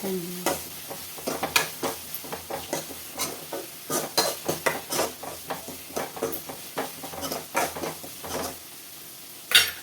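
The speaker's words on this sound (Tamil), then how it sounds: "ஓகே, வெங்காயம் ஒரு கொஞ்சம் நேரம் வதங்கட்டும்" Onions sautéing in a pan for mutton kulambu, with steady stirring scrapes and clinks over a soft sizzle, close and fairly loud, with no talking.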